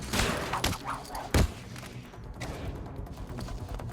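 Enemy gunfire in the video game Batman: Arkham City: a few sharp shots in the opening second and a half, the last one the loudest. A quieter, busy game background follows.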